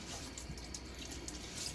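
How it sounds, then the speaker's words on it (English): Running water at a bathroom sink before a shave, a steady close faucet stream with faint splashes as water is cupped and thrown onto the face. "Let me throw some water on my face"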